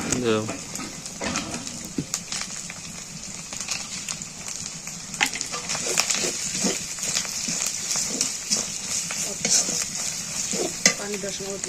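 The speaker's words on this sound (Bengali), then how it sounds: "এখন আমি ভালো করে কষিয়ে নেব।" Beef curry with spices is stirred and fried in a pan, with a bright sizzle and irregular scraping, clattering strokes of a spoon, close and continuous.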